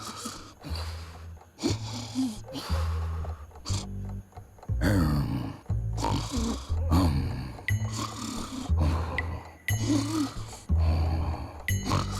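A man snores in loud, ragged rhythmic bursts on a wedding night in a bedroom, each breath a rough roaring snort separated by brief pauses, close and alone without talk.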